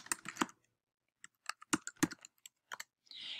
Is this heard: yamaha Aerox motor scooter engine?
no